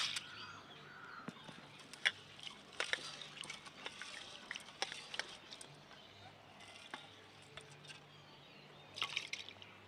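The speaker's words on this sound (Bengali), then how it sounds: "চাল ধোয়া জলের মধ্যে ডালটা ধুয়ে নিচ্ছি" Lentils being washed by hand in rice-washing water, quiet splashing and trickling with small drips and swishes, faint and close, with a brief busier burst of sloshing near the end; no talking.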